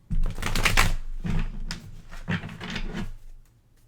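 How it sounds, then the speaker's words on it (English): Tarot cards being riffled and shuffled in a few rough bursts, with papery flutters and soft thumps up close. "I'm having a hard time getting the cards to shuffle together."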